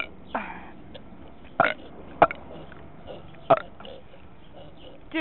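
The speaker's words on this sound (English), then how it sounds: "How many times can you burp?" Several short, separate burps from a person, scattered across a few seconds with quiet gaps between them, fairly close but not very loud.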